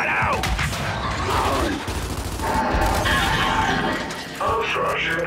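Dense gunfire from a Gears 5 Horde match on the Dam map: continuous loud bursts and rattling automatic fire filling the whole stretch, with a brief dip near the end, mixed with game voices and effects.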